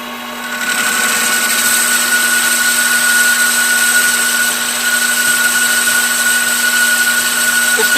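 A machine steadily boring a cast iron handwheel, a continuous close whine with a sustained high-pitched cutting tone that holds evenly for the whole stretch, with no talking.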